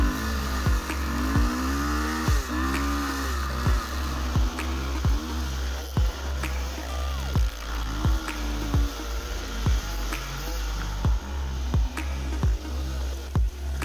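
KTM 500 EXC dirt bike racing, its engine droning loudly and continuously with repeated sharp rev surges and shifts, close up throughout.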